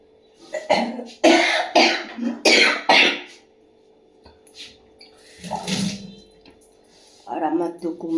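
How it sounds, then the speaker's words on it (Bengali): A person coughs repeatedly in a kitchen while making breakfast, a cluster of harsh, close coughs followed by a quieter one and some throat clearing, with running water and clatter around them. "আর আমার তো কমছেই না কাশি"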